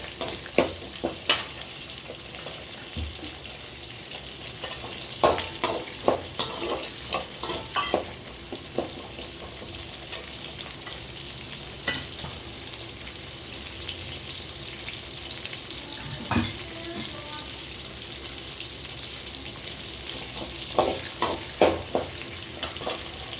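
Onions sautéing in a pan for a spinach stir-fry, a soft continuous sizzle with repeated scraping and clinking of a spoon stirring against the pan at an irregular rhythm.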